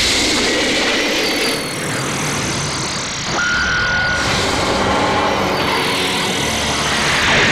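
A loud, dense roaring blast with sweeping tones and a rising whine, sustained throughout like a powerful energy beam firing; a beam cannon attack in Dragon Ball Xenoverse 2.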